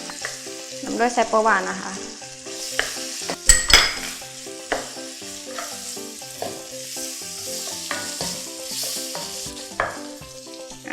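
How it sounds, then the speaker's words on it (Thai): Tofu stir-fries in a pan for shrimp pad thai, sizzling loudly throughout with a sharp clatter of utensils partway in, under background music and someone speaking briefly. "เสร็จแล้วเราก็ใส่เต้าหู้ลงไปค่ะ"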